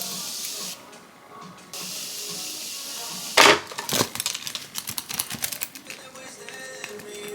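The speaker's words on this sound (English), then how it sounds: "I'm gonna be using my setting spray to quickly spray my face" Setting spray mists onto a face in short bursts, a sharp close hiss followed by quicker spritzes over quiet room tone.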